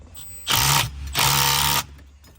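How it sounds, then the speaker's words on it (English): A small 7/16 impact wrench fastening a bolt during shifter repair on a 1972 Plymouth Cuda, giving two loud buzzing rattling bursts of about half a second each, close by, with a short pause between them. "We got our 7/16 little tiny impact and a wrench just to fasten it."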